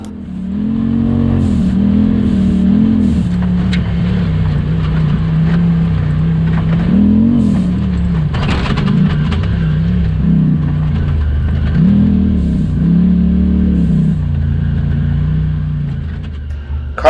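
A Pro Mod UTV roars over a rough, rutted off-road rock run course, its engine loud and close with repeated revving surges and bumps throughout.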